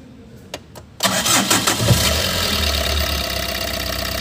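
A Tata Super Ace pickup with a low-pickup problem, just refitted with its injector socket, cranks briefly with a couple of clicks, then catches and settles into a loud, steady diesel idle close by.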